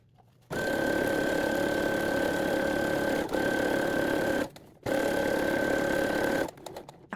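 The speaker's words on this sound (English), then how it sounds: "make sure you backstitch at the beginning of your gathers" A sewing machine backstitches the start of the gathers on a shirt. It hums steadily and close in two long runs with a short pause between them, and the clip ends with quieter handling.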